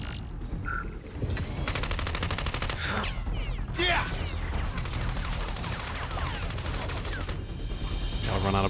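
Bursts of machine gunfire from hostile machines in Xenoblade Chronicles 3 rattle loudly and nearly nonstop, layered with crashes and impacts.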